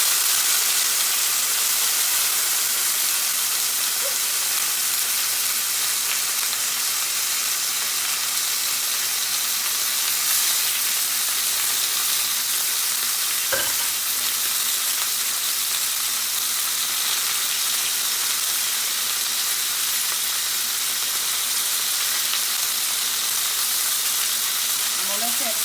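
Chicken fajitas sizzle loudly in a hot pan, a dense, constant hiss of frying that fills everything from start to finish, close up, with a brief clink partway through.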